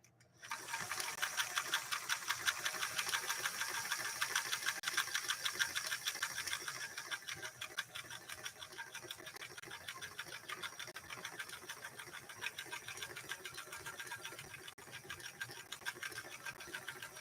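A Singer 328K sewing machine stitches through leather with a fast, steady mechanical clatter, its needle strokes repeating as an even, continuous rhythm close by from start to finish.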